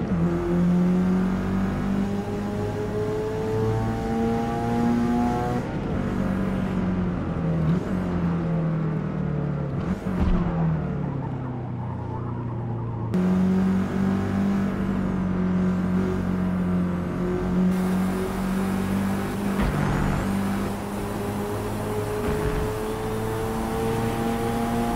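A Porsche 911 GT2 and a Mazda Formula car race on the Nürburgring in a Forza game, engines droning and rising steadily, revving up through gears and dropping on braking, with cuts between the cars and no voices.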